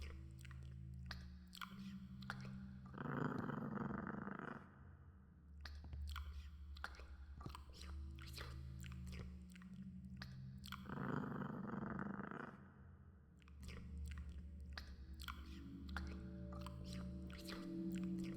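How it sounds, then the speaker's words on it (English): Angry cat-like growling from a creature in a PC horror game, a low rumbling snarl in two swelling bursts over a steady droning game ambience, with no talking. "Just sounds like an angry cat."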